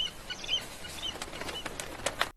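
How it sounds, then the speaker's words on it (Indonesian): Birds take off in a flurry of flapping wings, several quick soft beats clustered near the close, faint and unaccompanied by voices. "terdengar suara burung yang terbang menandakan sesuatu"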